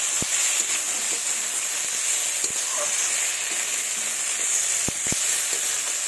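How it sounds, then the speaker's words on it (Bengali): Spice paste with beans fries in a pan, a steady bright sizzle with occasional sharp ticks and soft stirring scrapes, close and continuous without speech. "ভালো করে ভেজে নেব, মশলাটা যাতে কাঁচা গন্ধ না থাকে।"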